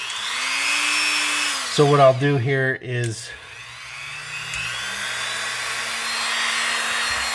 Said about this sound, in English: just drill it a little bit, make it a little wider